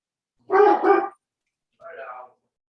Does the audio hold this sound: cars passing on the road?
no